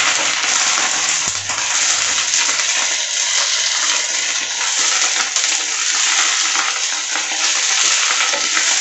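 A spoon stirs Nellore-style mint chutney mixture in an oily pan, producing a bright, steady sizzling hiss with scraping, continuous and close with no talking.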